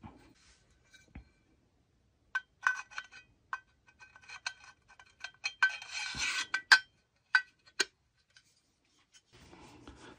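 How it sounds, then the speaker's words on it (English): Lid of a Geodnet triple-band GNSS unit being screwed back on: sparse, quiet scrapes, clicks and rasping turns come in short bursts separated by near silence, close up and with no talking. "So we're just going to put this all back together and screw the lid on."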